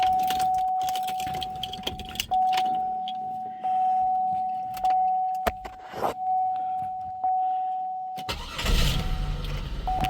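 Keys jingle and a few clicks sound inside a 2002 Buick LeSabre, a steady electronic chime tone runs throughout, and the engine turns over and catches at the end.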